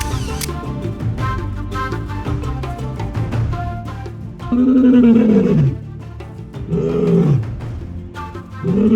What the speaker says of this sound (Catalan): Ja tenim el nostre primer lleó del Kruger.